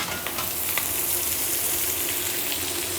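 Lamb shoulder sears in butter in a hot pan with a steady, dense, close sizzle and a few faint spatters, and no talking.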